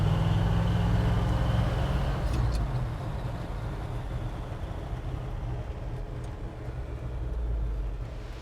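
A 1977 Ford F150 Ranger XLT 4x4 pickup driving, a steady low engine rumble and road noise throughout, heard from inside the cab with no talking.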